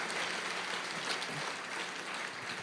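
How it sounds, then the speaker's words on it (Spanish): Faint, distant applause from a church congregation, a soft continuous patter of clapping without any talking. "Dale un aplauso al Señor"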